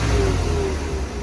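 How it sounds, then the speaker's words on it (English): A 1991 Ford LTD Crown Victoria fire department car engine revs steadily for a moment, a low sustained rumble with a faint whistle that fits its slight exhaust leak. "We are actually dealing with a slight exhaust leak on this car."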